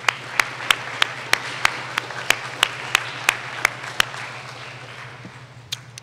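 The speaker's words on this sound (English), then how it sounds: "let's give a round of applause to these young ladies" Sparse, evenly spaced handclaps from a small school audience for a group of middle school girls at I.S. 318, about a dozen sharp claps over a low steady hum, without talk.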